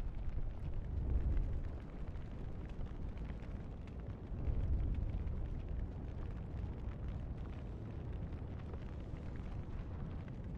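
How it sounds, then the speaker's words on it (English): A tree set ablaze in Elden Ring burns with a steady, loud low roar and crackling rumble, swelling at two points, with no voices over it. "We love lighting trees on fire."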